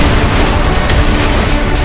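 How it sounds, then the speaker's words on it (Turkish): Rocket launcher explosion in GTA 5, heard as a steady, loud, dense low rumble with crackling bursts that stays fairly even through the whole moment, with no distinct separate blasts. "Roket atar sesini dinle."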